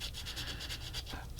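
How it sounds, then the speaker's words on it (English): Close, quiet rhythmic rubbing as small plastic model kit parts are sanded to remove nubs, about a dozen quick even strokes in a row. "I just sand off those nubs"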